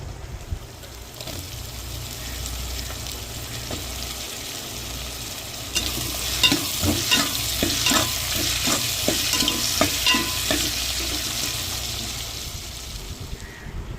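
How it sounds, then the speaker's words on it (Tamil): Cut brinjal, onion and tomato sauté in hot oil, a continuous close sizzle and crackle that swells midway, with repeated spatula strokes scraping rhythmically against the pan. "கத்திரிக்காய் வெட்டி வச்சிருக்கோம், அதையும் சேர்த்து எண்ணெயிலே வதக்கி எடுத்துக்கிறோம்"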